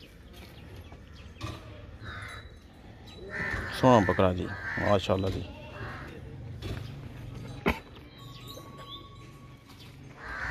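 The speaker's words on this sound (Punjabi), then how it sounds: "ਇਹ ਕਾਂ ਬਾਹਰ ਰੌਲਾ ਪਾਇਆ ਵਾ" Crows caw repeatedly outdoors during an Eid goat sacrifice (Qurbani), the calls near and clear with a few sharper bursts, mixed with someone talking and background bustle.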